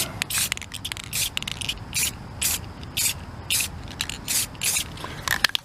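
Light finish coat sprayed in short repeated bursts over a folded copper origami crane, each hiss lasting under a second with brief pauses between, close and fairly loud with no talking.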